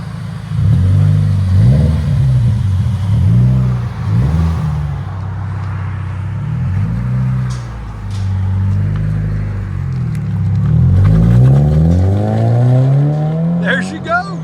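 2013 Scion FR-S with a 2.0L engine and a Greddy exhaust, revved repeatedly from idle in loud rising and falling sweeps that climb higher toward the end, close by, with people talking in between.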